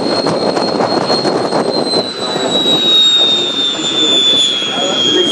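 A jet engine roars at an air show marking 50 years of Canadair aircraft, a loud sustained rumble with a slowly falling whine, heard under a public-address announcer talking throughout.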